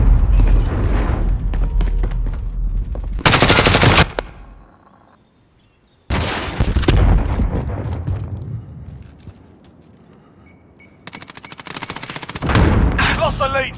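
Shotgun blasts in a first-person shooter video game, several loud sharp shots in separate bursts between quieter gaps, with game sounds around them.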